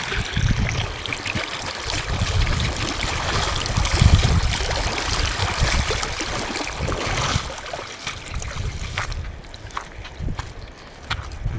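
A mountain river streams past nearby, a dense, steady rush of flowing water with low churning that thins slightly toward the end; no one speaks.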